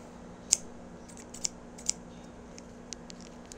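Scissors snip through a rubber bike inner tube, giving a few crisp, close clicks at irregular intervals over a quiet, humming room.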